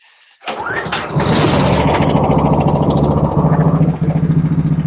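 A vintage four-stroke snowmobile engine cranks and fires after a brief silence, then settles into a steady, loud, close idle with an even rhythmic pulse.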